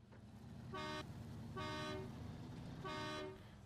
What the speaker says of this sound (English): I think I honked and knocked over a barrier.